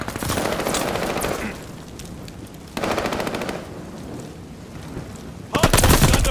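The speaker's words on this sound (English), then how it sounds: "Hard point is under fire." Rapid bursts of automatic gunfire at a hardpoint in a video game, loud and close, with sustained machine-gun rattles separated by quieter gaps and a fresh burst at the end.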